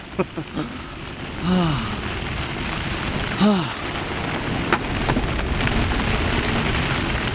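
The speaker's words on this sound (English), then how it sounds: "Alright, little morning squall." A morning rain squall at sea patters steadily on the deck of a Swan 48 sailboat, a loud close wash of rain, with a couple of voiced sighs or hums rising over it.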